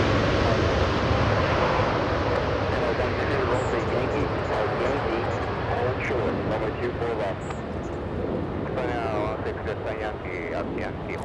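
A Lufthansa airliner roars on its takeoff run from runway 24 left at Los Angeles airport, a loud, broad, continuous jet rumble with wind buffeting, under faint radio chatter.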